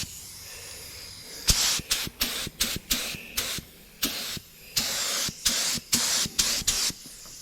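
Rims for a demolition derby car being spray painted, with a run of short, loud hissing bursts from a spray can, each lasting under a second, separated by brief pauses.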